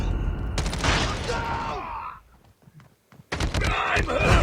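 Bursts of rapid automatic fire from a Type-25 rifle in a Call of Duty-style shooter on the small Shipment map, loud and dense, pausing briefly before another heavy burst with game effects.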